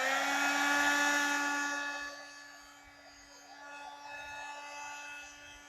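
A new Makita tool blows out a strong, steady rush of air with a whining tonal hum. It is loudest at first, then eases and rises again.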